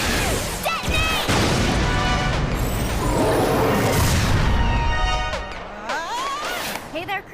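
A cartoon explosion booms right after a detonation, a loud dense blast with crashing debris and rumble that fills several seconds before tapering off.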